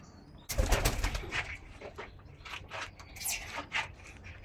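Teddy pigeon chicks, featherless and a few days old, heard as a close burst of rustling and flapping followed by soft, irregular peeping and cooing sounds, with no talking.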